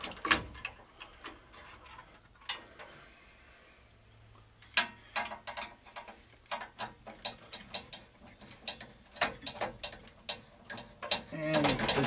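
Screws are backed out of an Electrohome G07 arcade monitor with a ratcheting driver, producing quiet, irregular clicking and ticking bursts close by with occasional louder knocks.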